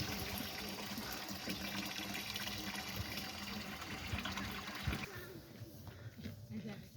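Clean water flowing in a channel beside a jogging and walking path, a steady rushing wash that fills the whole stretch and eases slightly near the end.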